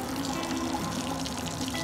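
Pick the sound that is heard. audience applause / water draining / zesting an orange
water draining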